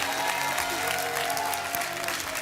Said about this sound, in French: On applaudit Émilie?